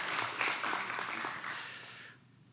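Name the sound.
congregation applauding to welcome a visitor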